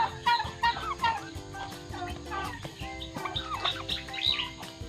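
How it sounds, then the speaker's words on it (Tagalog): Turkeys raised on a farm gobble in dense, overlapping bursts close by, with chirping calls mixed in and no talking. "So ngayon po, ito pa lang yung mga pabo ko."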